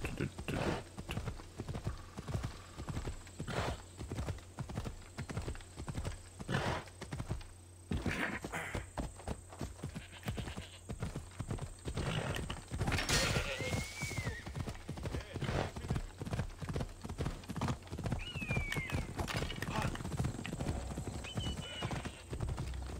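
Hooves clip-clop in a quick, steady rhythm for the whole stretch in the video game Assassin's Creed Odyssey, with a couple of brief whinnies cutting through.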